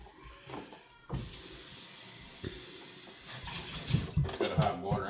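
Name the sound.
water rinsing out a container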